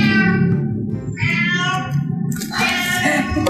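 A cat, a large one, meows in a series of harmonic calls at a veterinary wound-care session, close and fairly loud over steady background noise.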